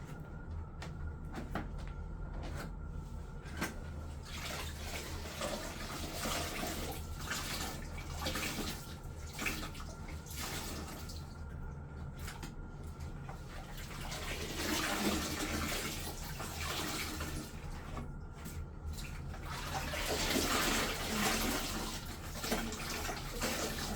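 Dirty wool being rinsed in a bucket of water during scouring, with sloshing, splashing and dripping close by, swelling louder in the later stretches, and no one speaking.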